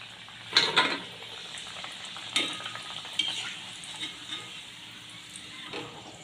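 Khaja pastries, round layered festival sweets, frying in hot oil until reddish-brown, a soft steady sizzle with stirring clatters near 0.6 s and 2.4 s and lighter scrapes after.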